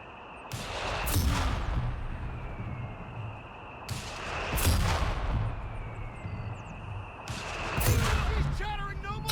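Artillery airburst barrage in Company of Heroes 3, three heavy booming blasts spaced a few seconds apart with rumbling decay, a person talking underneath the shelling.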